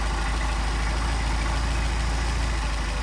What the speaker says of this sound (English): There we go, there's our best idle.